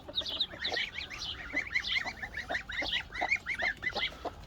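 Farmyard geese honk over and over in a busy, overlapping chorus of nasal calls, moderately near and steady.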